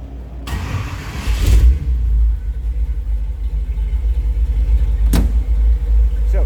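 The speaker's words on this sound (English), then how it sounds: "I'm going to go ahead and fire this up." A 1928 Ford Model A roadster street rod with a 283 V8 cranks briefly and fires up, settling into a deep, loud, rumbling idle with a short rev midway.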